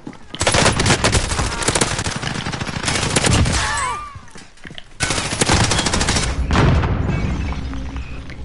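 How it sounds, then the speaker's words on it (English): Enemy gunfire from the video game Call of Duty Warzone rattles in loud, rapid automatic bursts, broken by a brief lull, then resumes just as close and heavy, with no voices over it. "Taking enemy fire."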